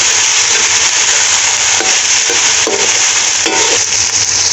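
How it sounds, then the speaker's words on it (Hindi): Spices with black pepper frying in a pan, a steady loud sizzle with intermittent scraping strokes of stirring, close up and with no talk. "5 मिनट हमने मसाले भून लिया।"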